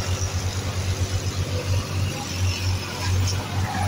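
A tractor engine labouring while stuck in a field with jammed tyres, a low throbbing drone with pulsing rhythm, close and steady throughout, no voices heard.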